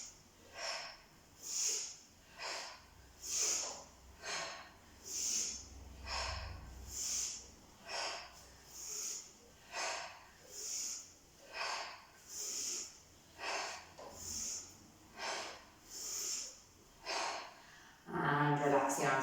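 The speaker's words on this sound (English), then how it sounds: "we're doing short, sharp, quick breaths" Short, sharp, quick breaths in a chair yoga exercise, about a dozen rhythmic bursts roughly every second and a half, close and steady, with a brief rustle at the end.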